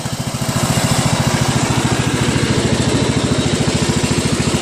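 A Craftsman LT1000 lawn tractor engine runs steadily close by, its single-cylinder putter forming an even, rapid pulsing thrum that holds at constant speed throughout.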